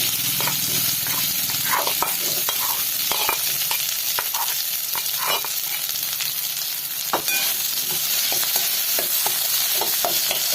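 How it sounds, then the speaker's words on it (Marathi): Potatoes sautéing in a pan for a fasting meal, a steady close sizzle of frying broken by repeated scraping stirs of the spatula, with no talking. "बटाटे पण चांगले परतवून घेऊयात"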